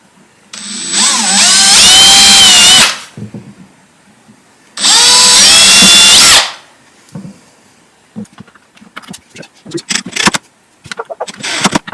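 A power drill bores holes for brass hinges on a wooden bird house in two loud bursts of whining, revving drilling, each lasting about two seconds, followed by scattered clicks and handling noises of tools and hardware.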